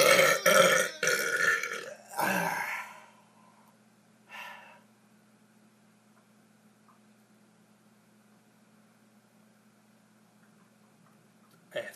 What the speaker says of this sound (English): 5 more burps.